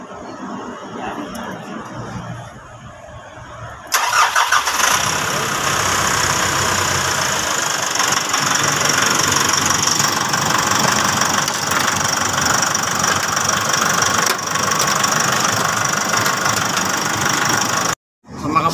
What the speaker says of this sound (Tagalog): Ayun yung makina niya.